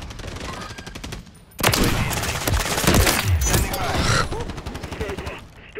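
Gunfire in the video game Modern Warfare 3: loud, dense bursts of automatic and rapid shots filling most of the stretch, with quieter ticking before and after.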